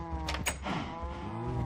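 A Minecraft cow in the Sky Factory 2.5 modpack lets out a single drawn-out, low, tonal moo lasting over a second, close and clear, with no talking over it.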